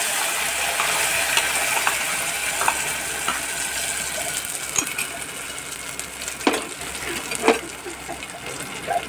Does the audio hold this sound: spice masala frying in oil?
yes